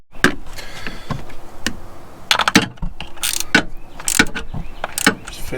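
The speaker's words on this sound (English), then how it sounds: "Just finishing snugging up the 10mm bolts on the front side." A ratchet snugs up 10mm bracket bolts on a Ford 6.0 diesel FICM, clicking close and loud in short bursts with irregular pauses between strokes.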